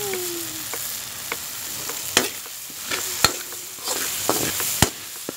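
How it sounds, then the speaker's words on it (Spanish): Sausage browns in a pan for frijoles guisados, a steady close sizzle broken by sharp clicks and taps of a utensil stirring and scraping, with no one speaking. "vamos a dorar la salchicha también."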